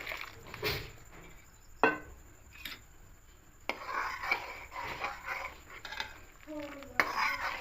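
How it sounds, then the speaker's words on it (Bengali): Powdered milk stirred into boiling milk with bay leaf and cardamom in a pot, a spoon scraping and knocking against the metal in irregular strokes, with occasional clinks and a faint background tone. "দিয়ে খুব ভালো করে মিশিয়ে নেব"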